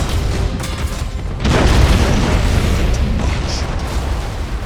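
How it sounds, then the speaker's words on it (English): Thunderhawk bombardment in Battlefleet Gothic: Armada 2, a heavy rolling barrage of booming explosions that swells after the first second and rumbles on continuously, loud and close, with no voices. "Initiate Thunderhawk bombardment!"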